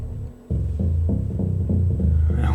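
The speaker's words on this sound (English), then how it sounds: "A wonderful analogue type sound there. Very growly." A growly analogue-style bass patch from a Proteus 2000 synth plays a pulsing walking-bass riff in repeated notes, loud and close, with no one talking.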